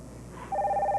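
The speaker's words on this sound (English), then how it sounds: "That's the phone. Aren't you going to answer it?" Home telephone in a 1986 soap opera scene gives a single ring after a quiet room hum, the trilling bell steady and fairly close until the end.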